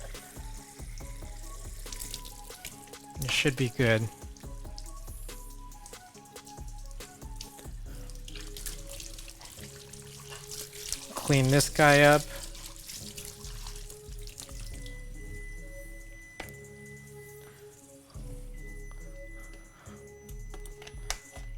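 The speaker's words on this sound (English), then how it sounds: "So keep running water going for about another 20 seconds." Running tap water splashes into a sink while rinsing a photographic film developing tank, coming in a few loud bursts separated by quieter handling clatter, with someone speaking briefly.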